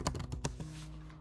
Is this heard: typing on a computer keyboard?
yes